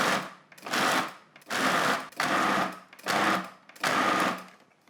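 Food processor pulsing a mix of beans and tamari for vegan meatballs: six short, loud whirring bursts close by, each separated by a brief pause.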